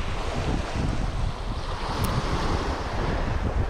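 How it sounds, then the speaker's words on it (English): Steady wind blowing at a seashore, a constant broadband rush with buffeting against the microphone and surf washing beneath it, loud and unbroken throughout with no voices. "At the moment the wind's blowing from the south or southeast."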